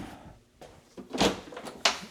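A shaker-style coat closet door in a house opens with a couple of close, sharp clicks and a soft thunk from the latch and hinges, heard alone in a quiet room.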